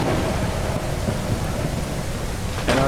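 Heavy thunderstorm with pouring rain in the survival game Mist Survival, a continuous loud wash of rainfall under deep rolling thunder, with a sharper crack near the end.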